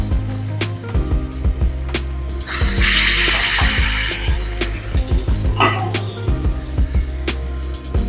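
Liquid pours in a hissing, splashing stream into a pot on a kitchen stove for broken wheat payasam, with clanking utensil knocks before and after the main burst of pouring.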